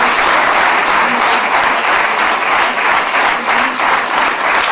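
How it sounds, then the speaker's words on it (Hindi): Loud, dense applause from an audience greeting a guest speaker at a business talk, sustained hand clapping filling the room without pause. "मैं चाहूंगा मेरे गुरुजी के लिए एक जोरदार ताली हो जाए"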